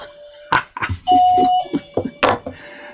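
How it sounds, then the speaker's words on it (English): A doorbell chimes in a home on a Monday morning, a clear sustained ding tone ringing once near the mic amid some small household knocks and rustles, with no talking. "Should be hearing a doorbell pretty soon"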